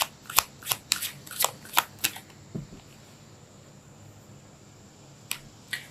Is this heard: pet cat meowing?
no